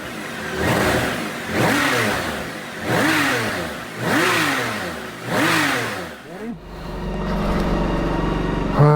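A BMW K1600 GT motorcycle with an upgraded ECU revs its engine up and down in five strong swells, loud and close, before dropping back to a steady idle.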